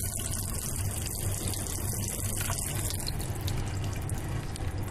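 Water runs steadily from a tap into a small sink aboard a train, a close continuous splashing stream over the low rumble of the carriage, with no talk.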